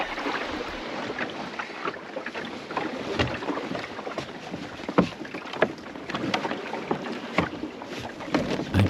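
A small cruising sailing dinghy moves through open water near the Île de Hoëdic. Water rushes and slaps steadily against the hull under constant wind buffeting, with sharper splashes now and then.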